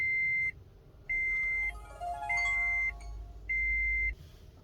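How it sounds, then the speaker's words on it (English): The Toguard CE80B mirror dash cam gives its startup sound: four steady, evenly spaced electronic beeps with a brief chirpy melody overlapping the middle, heard close and clear inside a car. "The sound you hear when you turn on your car."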